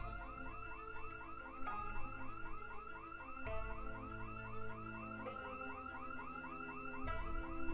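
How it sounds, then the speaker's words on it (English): A burglar alarm wails continuously inside a house in the zombie survival game Project Zomboid, its repeating electronic siren warbling at steady loudness with no talk over it. "Of course there's a burglar alarm."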